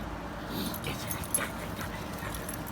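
A dog whimpers and yips softly while playing indoors, short high whines scattered over a low background hum with no talking.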